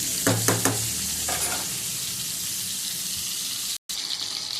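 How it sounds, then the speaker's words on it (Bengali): Pointed gourd (potol) frying in oil as it is stirred and turned, a steady sizzle with a few scraping knocks of the spoon early on and a brief dropout near the end. "এবারে একটু উল্টে পাল্টে করে দেখি, একটু ভাজা ভাজা হোক"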